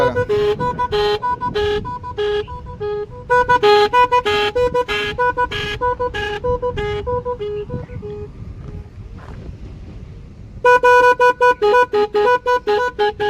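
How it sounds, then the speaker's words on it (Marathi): A motorcycle's multi-tone horn plays a rapid, ambulance-siren-like melody of bright repeated toots, loud and close, pausing briefly before starting up again. "भरपूर व्हेरायटी आहे हॉर्नमध्ये तर तुम्हाला पण नक्की दाखवतो अजून भरपूर व्हेरायटी मित्रांनो हे बा ॲम्ब्युलन्सचा पण आवाज आहे त्याच्यामध्ये तुम्हाला ऐकवतो"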